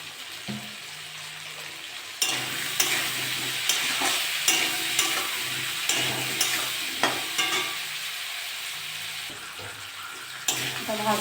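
Food frying in a pan with turmeric and salt for a Bengali chorchori of Malabar spinach, potato, pumpkin and prawns, giving a steady sizzle with scraping stirring clicks, close and moderately loud.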